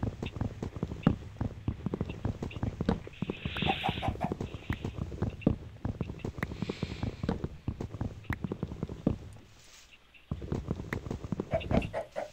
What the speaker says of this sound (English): Ooh, there's chickens.